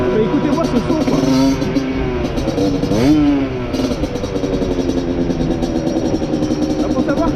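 A 50cc motorcycle fitted with an aftermarket exhaust, not yet fully run in, idles and revs nearby, with a steady buzzing drone and one sharp rev in the middle.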